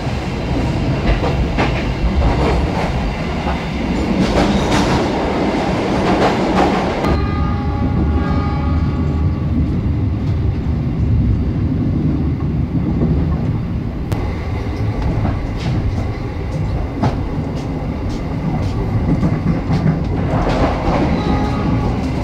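Batu Raden Express passenger train running on rails between Bandung and Purwokerto, a loud continuous rumble with rhythmic clickety-clack of wheels over rail joints, shifting tone midway as the carriage passes different track sections.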